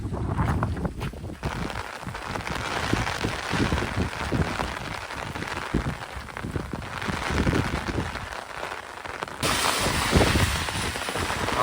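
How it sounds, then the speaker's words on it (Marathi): Dense, continuous rush of heavy rain with gusty wind buffeting the microphone, loud and close throughout. "एवढा जबरदस्त पाऊस लागलाय ना"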